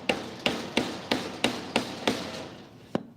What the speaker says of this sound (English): I'm gonna knock that whole king valve loose